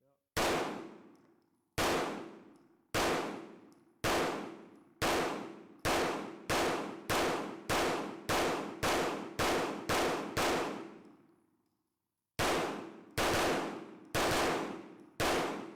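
A Stealth Arms Platypus pistol fires Norma 124-grain ammunition in about fifteen loud, sharp shots. They come in a steady string that speeds up into quick successive reports, then pause briefly before three more shots.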